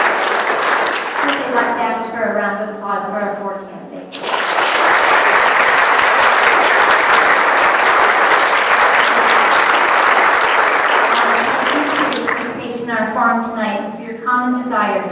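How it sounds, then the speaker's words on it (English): An Annapolis mayoral candidates forum audience gives a loud round of applause for the four candidates, lasting about eight seconds between stretches of a speaker talking before and after. "I'd like to ask for a round of applause for our 4 candidates."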